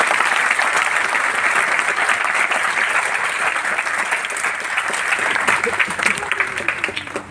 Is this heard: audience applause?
yes